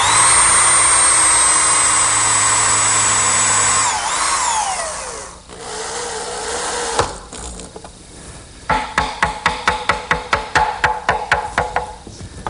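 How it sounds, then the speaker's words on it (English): A power drill driving screws into a maple strip for a drawer guide in a woodshop: a long high motor whine winding down, a pause, then a rapid series of ratcheting clutch bursts, loud and close. "I'll just attach that with some screws."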